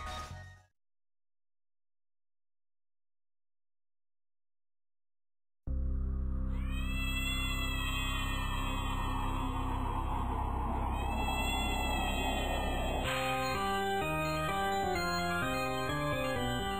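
A cartoon mutant kitten meows in a long, loud, sustained tonal call after several seconds of silence, shifting into a choppier stepped pattern near the end, with no speech.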